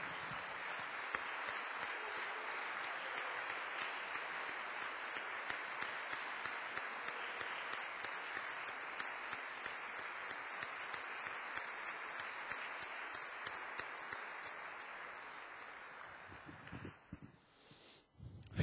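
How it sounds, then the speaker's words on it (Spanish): A Sunday church congregation gives a long, sustained round of applause, thick and even for many seconds before thinning out and dying away near the end, with no voices over it. "demos un aplauso al Señor"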